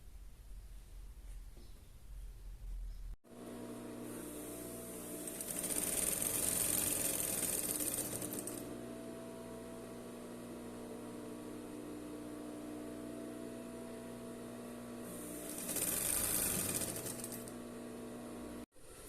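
A sewing machine closes a seam in fabric for a polystyrene-ball snowman Christmas decoration, running steadily and close up for most of the stretch, with two louder, faster bursts of stitching and no talk.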